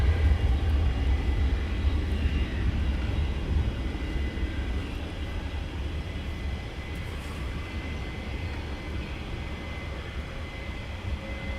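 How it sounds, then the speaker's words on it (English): An EasyJet airliner backtracking along the runway at Luton Airport on an early morning, a steady low jet rumble heard from a distance with no talking. "the EasyJet was going to go for a straight out, but is now backtracking"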